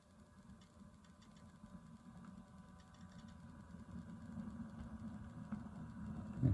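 Scaletrains HO scale GE AC4400 model locomotive running quietly on track, a soft steady low hum that slowly builds in level, with no talk.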